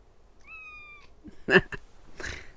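A domestic cat gives a short chittering call: a thin, wavering chirp followed by a couple of quick, louder meow-like bursts, close by and with no talk over it.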